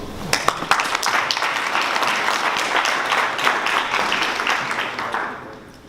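An audience at a meeting with the Burkinabè president in New York breaks into applause, a dense, loud wash of many hands clapping that holds steady and then fades out.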